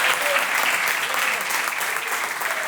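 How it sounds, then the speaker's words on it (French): Sustained, loud applause from the audience at a comedy club during a stand-up show, a dense, even wash of clapping with faint crowd noise and no talking on top. "Applaudissez pour le gars d'Aïcha"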